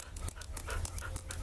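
A dog pants close by in quick, rhythmic breaths, a short burst of steady huffing with no voices.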